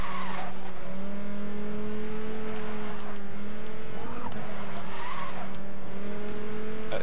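A car in Need for Speed: Most Wanted drifts with sustained tire squeal and a revving engine, the screech rising and falling in waves over a constant loud motor drone.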